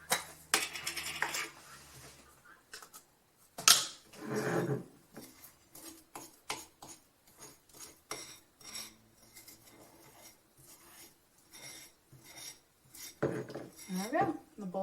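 Glass jars of homemade natural deodorant get capped by hand, with scattered clinks, taps and scraping clicks of lids and glass at close range, irregular and fairly quiet.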